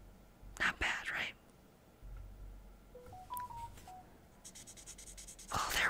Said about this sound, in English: Oh, there was my phone.